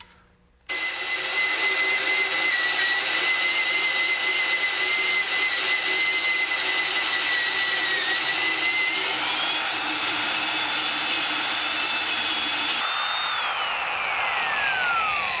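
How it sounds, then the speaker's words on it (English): Porter Cable 7556 D-handled right-angle drill running loud and close after a short start, a steady high motor whine that rises in pitch partway through, then tails off downward near the end. "This is the Porter Cable 7556 D-handled right-angle drill."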